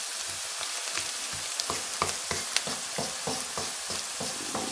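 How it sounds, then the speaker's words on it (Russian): Steady, dense sizzling of onions frying in a hot pan, with soft clinks and scrapes from stirring scattered throughout; no voices. "Не пережариваем лук слишком сильно"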